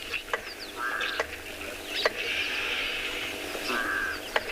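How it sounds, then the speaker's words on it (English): Crows cawing at a waterhole where springbok drink, several harsh calls spread across the clip, fairly distant and faint over quiet outdoor ambience. "You hear the crows squawking in the back."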